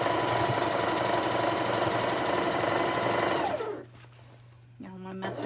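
A sewing machine stitches a long quilt border in a steady, rapid mechanical chatter up close, then halts, leaving a low hum before the motor briefly starts again.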